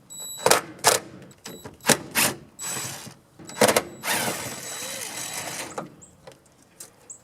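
Close, sharp metallic clicks and ratcheting bursts as a nut driver unscrews fasteners holding a washing machine drain pump, several irregular clusters of clatter with short pauses between them.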